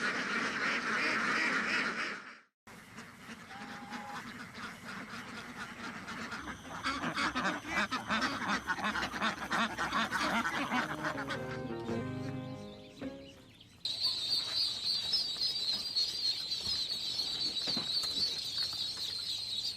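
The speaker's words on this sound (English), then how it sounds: "ducks find their home, not confined in tight cages, but living under the shade of trees, on the water's surface" Ducks on a farm where they roam free under shady trees and on open water, with several honking, quacking calls mixed with other bird sounds at moderate distance, a brief drop near the start and a steady high bright chorus toward the end.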